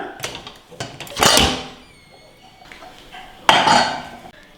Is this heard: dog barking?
no